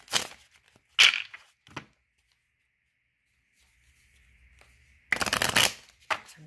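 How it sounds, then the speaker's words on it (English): A stiff deck of cards is shuffled in short riffling bursts, one at the start, a brief one near one second and a longer flurry around five seconds, with near-silence in between. "These cards are a little bit hard to shuffle,"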